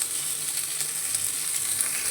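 Onion, garlic, ginger and green chilli fry in a pan for a Punjabi dhaba-style kadai paneer, giving a steady, even sizzle with faint stirring under it and no talk.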